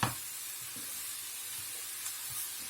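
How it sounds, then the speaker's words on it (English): Grated carrots sizzling in a pan over medium heat, a steady soft hiss with faint crackles, close and continuous with no talk. "It's going to take about 15 minutes on a medium heat, just sizzling away for these carrots to get cooked."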